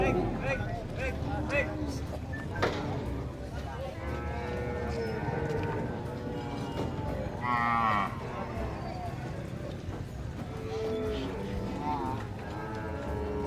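Holstein cattle at a livestock market in La Libertad give several drawn-out moos, some near and some farther off, over a steady hubbub of people talking.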